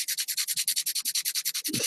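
A nail-file sanding stick scrubbed quickly back and forth over resin, about fifteen even, rhythmic rasping strokes, close and fairly soft.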